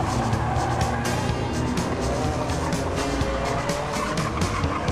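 Race cars tear round a bend with engines roaring and tyres squealing, a dense, loud, continuous rush of motor noise close by.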